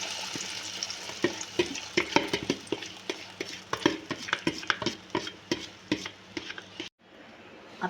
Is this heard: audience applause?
no